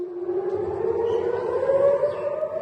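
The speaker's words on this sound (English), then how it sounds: "Air raid sirens rang out in Tel Aviv, sending people running down into bomb shelters until the danger passed." An air raid siren wails over Tel Aviv during a rocket attack from Gaza, a loud, steady rising tone sounding continuously with no other sounds around it.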